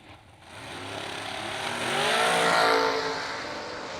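Drag race cars launching side by side at the Cap City 50, engines roaring up from quiet into a loud rising howl that peaks and then fades as they pull away down the track.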